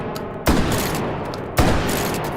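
Two loud, sharp blasts from a trench shotgun in a VR shooter game, about a second apart, each with a quick punchy attack and a rumbling tail, over a constant background hum.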